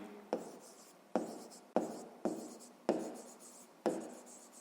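Pen strokes scratch across notebook paper as numbers are written out for a fifth-grade maths exercise, five short bursts at an even pace, close and quiet with no voices.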